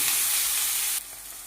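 Fish oil frying in a wok, a loud close hiss and sizzle that drops sharply in level about two-thirds of the way through and carries on quieter to the end.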